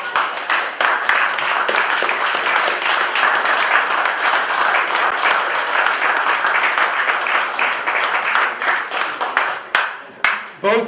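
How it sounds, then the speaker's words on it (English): A room full of people applauds in tribute to Ann and Joel Finn at a vintage Grand Prix festival gathering, with dense, steady clapping that carries on for several seconds before tapering off. "I'd like you to join me in a moment in applause and tribute to Ann and Joel Finn"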